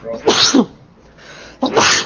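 A single sharp sneeze bursts out nearby at a casual Commander card game, followed by a brief lull and then a short spoken remark.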